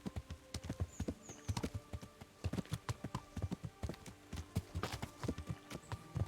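Horse hooves clip-clop in a steady galloping rhythm while riding uphill in Kingdom Come: Deliverance, close and fairly loud with brief faint background tones.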